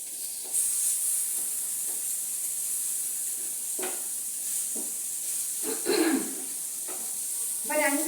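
Mackerel frying in hot oil gives a steady, bright sizzling hiss that runs throughout, with occasional louder crackles and spits near the end.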